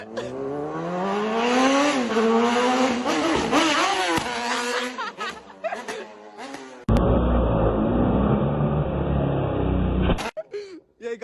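A motorcycle engine revs and climbs through gears during a wheelie stunt, loud rising whines with pitch sweeps, followed by a harsher blaring segment that ends abruptly.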